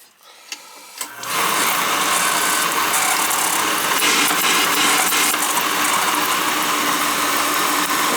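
An old oil boiler's burner and pump start up after a couple of clicks, then run with a loud, steady mechanical whir and hum that holds close and constant.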